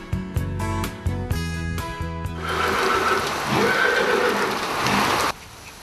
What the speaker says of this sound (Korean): 겨울비가 내리는 다음 날.